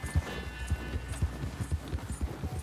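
Horse hooves clip-clopping while riding in the mountains in Red Dead Redemption 2, a steady rhythmic series of close, fairly loud hoof thuds at a walking or trotting pace with no talk.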